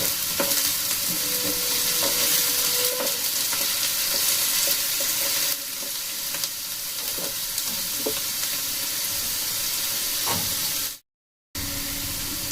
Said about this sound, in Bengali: এখন এগুলোকে আমি একটু হালকা ব্রাউন কালার করে ভেজে নেবো, যেমন গোল্ডেন ব্রাউন ভাজা হয় ঠিক সেই রকম করে আমি ভেজে নেবো।